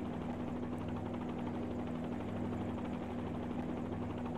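Helicopter in a flight simulator game lifting off and hovering, a steady close rotor and engine drone with a constant pitched whine, even and unbroken throughout with no talk.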